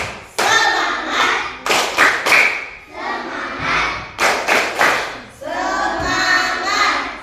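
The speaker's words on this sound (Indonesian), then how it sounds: "Tepuk semangat." A class of primary schoolchildren doing a spirit clap, groups of sharp synchronized claps in bursts alternating with chanted shouting from many young voices.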